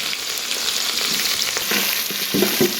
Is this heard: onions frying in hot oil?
yes